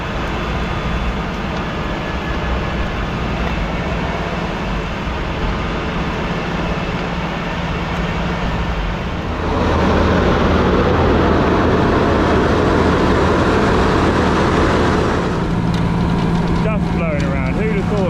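A Mercedes Unimog doing farm field work, its engine droning steadily, then rising louder and rougher as it pulls harder, continuous and close, with someone talking over it.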